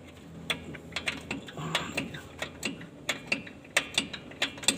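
A ratchet tool clicks repeatedly while tightening the drum brake adjuster on a Colt diesel truck, sharp metallic ticks in an uneven rhythm, close and fairly quiet over a low background murmur.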